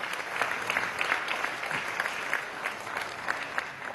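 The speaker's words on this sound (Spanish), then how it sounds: "Vamos a dar un aplauso" Applause in the chamber of Venezuela's National Assembly during an extraordinary session: steady, moderately loud clapping from a large seated audience, dense and even, with scattered sharper claps standing out throughout.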